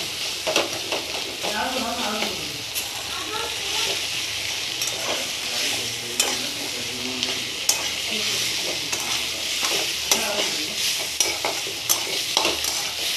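Onion and finely chopped brinjal frying with red chili powder and turmeric, a steady close sizzle broken by scraping stirs of a spoon in the pan, with a voice speaking briefly over it.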